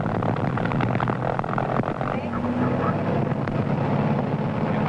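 A general aviation propeller airplane engine runs steadily after start-up at around 2100 RPM, a loud continuous droning rumble with wind buffeting the microphone and no clear speech over it.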